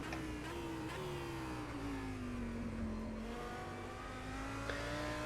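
Simulated Audi GT3 race car engine from rFactor 2 at Sebring, a steady high-pitched drone with a slowly sweeping pitch that dips and rises again, loud and continuous with no talk.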